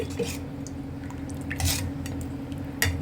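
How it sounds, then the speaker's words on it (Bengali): A spoon stirs pokharo, salted fermented rice soaked in water, in a bowl, making soft wet squishing and dripping sounds over a low steady hum, with a couple of slightly louder sloshes. "এবার ভালো করে নাড়িয়ে দেব"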